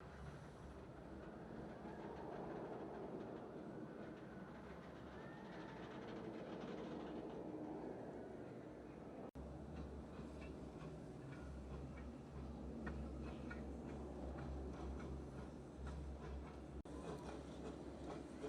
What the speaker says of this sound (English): Now the train that you see right over here is now going one direction